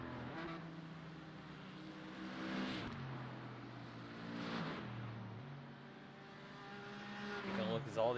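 Race cars in a sim racing game, BMWs at Hockenheimring, sweep past one after another with rising and falling engine drones, passes peaking near 2.5, 4.5 and 8 seconds, heard under commentary.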